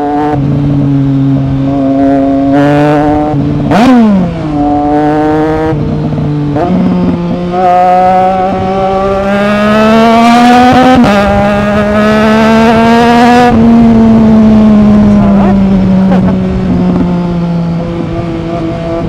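A 2025 Triumph Trident 660 three-cylinder motorcycle with a newly fitted aftermarket exhaust, loud and close, revving repeatedly with rising and falling engine pitch and sharp throttle blips.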